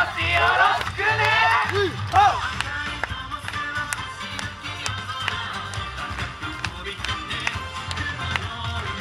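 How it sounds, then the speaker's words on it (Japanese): A crowd claps along in quick, even rhythm to a yosakoi-style dance contest performance at the Hadano Genki festival, the beat continuing under a voice and music. "皆さん、手拍子よろしくね"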